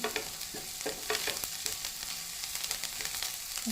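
Coriander roasting in a hot tempering for a tomato and garlic sabzi, giving a steady broadband sizzle with scattered stirring scrapes throughout, close and moderately loud with no talking.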